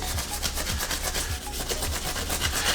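Steady back-and-forth scrubbing of grime on a bathroom surface during a remodel, a close, continuous rubbing rasp with rhythmic low strokes roughly every half second and no talking.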